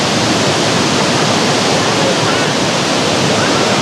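A waterfall roars in a steady, loud, broadband rush of falling water for the whole stretch, dense and unbroken, with no other sounds standing out.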